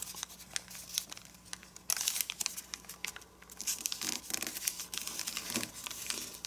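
Sheets of paper folded and creased by hand while shaping an origami dragon, giving close, soft crinkling and sharp crisp rustles in irregular bursts, with no voices.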